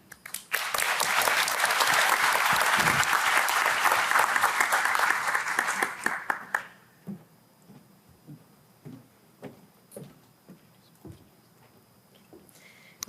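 A symposium audience applauds in a dense, loud burst for about six seconds, then the clapping thins to scattered individual claps that fade out.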